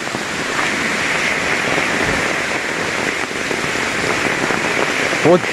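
Heavy rain falling on a flooded plantation at Kokkada, a steady broad wash of rain on wet surfaces with a brief sharper splash near the end and a voice talking over it.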